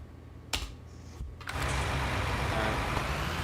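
A tractor engine in the video game Farming Simulator follows a couple of sharp clicks, then settles into a steady, loud, broadband drone.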